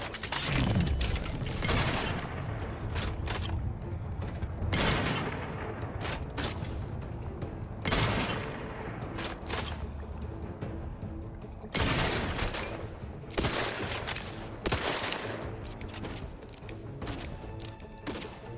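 Enemy gunfire in Outer Worlds 2, dense bursts of shots and booms coming in rapid clusters at mid distance, with mechanical clanks in between and no talk.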